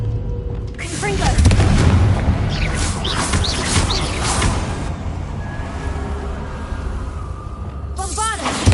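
A loud, sustained burst from a Confringo fire-spell explosion in the Hogwarts Legacy video game, a rumbling boom that rolls on for several seconds with crackling debris, overlaid with game music and voices.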